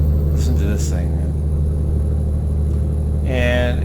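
Peterbilt truck engine in American Truck Simulator idling with a steady low rumble throughout, loud and close, with a couple of brief higher tonal sweeps over it.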